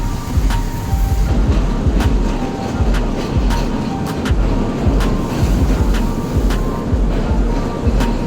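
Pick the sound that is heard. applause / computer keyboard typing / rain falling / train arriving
train arriving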